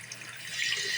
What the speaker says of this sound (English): So no problem with the water volume and pressure coming out of this tap. And it is rapidly filling up the sink.